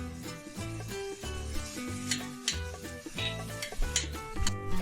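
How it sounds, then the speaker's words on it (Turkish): Onions sautéing with salt in a pan sizzle steadily as a utensil scrapes and stirs in repeated strokes, over a bed of background music. "Şimdi soğanlarımızı soteleyip sırasıyla öbürlerini de ilave edelim"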